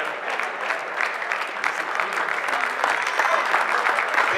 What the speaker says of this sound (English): Big applause, guys.